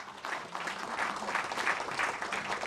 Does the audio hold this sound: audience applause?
yes